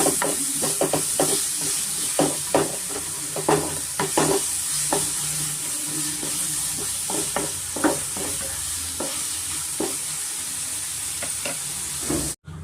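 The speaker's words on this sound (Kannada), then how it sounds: "ಈರುಳ್ಳಿ ಚೆನ್ನಾಗಿ ನಾವು ಫ್ರೈ ಮಾಡ್ಕೊಬೇಕಾಗುತ್ತೆ" Onions fry in oil in a pan under a steady hiss, while a spatula scrapes through them in repeated, fairly regular strokes, close and continuous with no talking.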